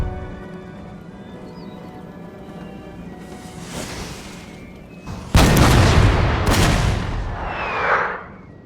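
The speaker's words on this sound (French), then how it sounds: "Canon de 6 livres paraît à tirer. Le canon est prêt, monsieur." Booming artillery from a 6-pounder cannon in the Napoleon Total War video game, with a loud blast near the middle and a second shot close after, over low background rumble.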